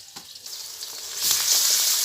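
Ground spices with ginger, garlic, coriander, fennel, cumin and chili paste fry in a pan and are stirred, a soft hiss that swells into a loud, close sizzle partway through, with light scraping.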